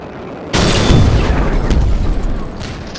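A loud, sudden boom as a missile strikes in a warship battle video game, followed by a rumbling roar that slowly fades over a few seconds.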